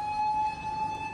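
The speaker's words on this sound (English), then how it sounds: "Sirens blare as smoke billows from this yellow three-story building" A steady emergency siren tone holds near constant over a building fire at a yellow three-story animation studio in Kyoto, loud and continuous above a rumbling street background.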